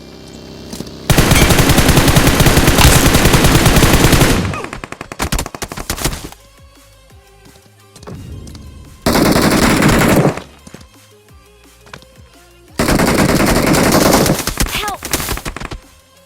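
Loud bursts of automatic gunfire in the BGMI battle royale game, three long sustained volleys with quieter gaps of game ambience between them.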